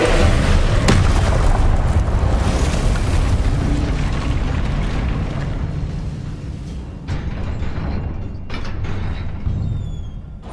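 Fire and blast spells, Incendio and Confringo, go off in the Hogwarts Legacy video game as heavy, rumbling booms that roar loudly at first and then ease into a softer crackle, with a few sharp pops late on.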